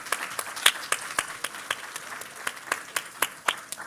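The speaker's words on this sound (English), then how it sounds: "Keep clapping until he gets up here" Clapping from a modest audience at a multiple myeloma community event in Houston as a guest walks up to the stage, sharp individual claps standing out in an uneven, fairly sparse rhythm with no talk.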